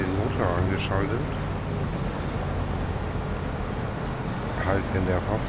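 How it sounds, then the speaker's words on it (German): A truck engine running in the Snowrunner off-road driving game, a steady low rumbling drone that holds throughout while someone talks over it at the start and end. "Jetzt haben wir hinten nochmal den Motor angeschaltet."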